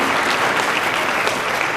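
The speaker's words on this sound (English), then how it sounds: "let's give them a round of applause too" Dense, steady applause from an assembly audience at Carter High School in Rialto, California, recognizing the school administration, a loud continuous wash of many hands with no voices over it.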